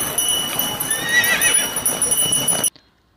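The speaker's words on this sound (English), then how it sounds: "H for horse." A horse whinnies over the steady clip-clop of its hooves, loud and close, with the sound cutting off abruptly near the end.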